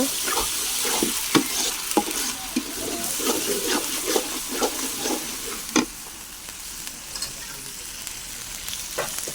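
Garlic and ginger paste stir-fried in oil for tilapia curry, a loud bright sizzle broken by repeated scraping and clinking stirs, close up.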